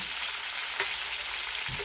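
Tilapia frying in a pan of hot oil, a steady close sizzle with a couple of soft stirring or shifting sounds.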